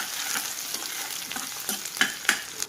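Chopped onion and cumin seeds fry in hot oil, giving a steady soft sizzle with occasional scraping stir clicks near the end.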